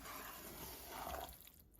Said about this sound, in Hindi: इसमें पानी डाल लेते हैं।